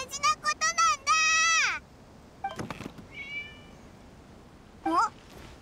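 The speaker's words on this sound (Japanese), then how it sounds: "猫か。" A cat in the Genshin Impact video game meows in a quick string of short calls followed by one long drawn-out meow, then a few fainter mews and a final short cry, all close and clear.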